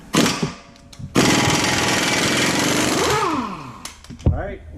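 A pneumatic impact gun loosens an axle bolt, hammering out a loud, continuous rattling burst of about two seconds that winds down with a falling whine, with shorter bursts and clanks of tool handling around it.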